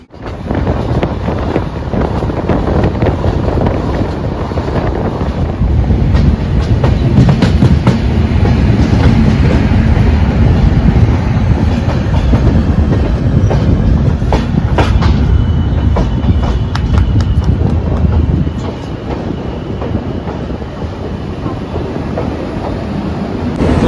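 A train rumbles steadily along the rails on the Guwahati to Sealdah route near Malda Town, loud and close, with clickety-clack and rushing wind noise buffeting the microphone throughout.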